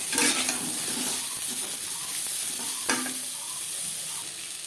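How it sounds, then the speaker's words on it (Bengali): Pointed gourd (potol) pieces coated with turmeric and salt fry in hot oil, giving a steady loud sizzle broken by scraping stirs in the pan, with no talking. "পটল ভাজা হয়ে এসছে"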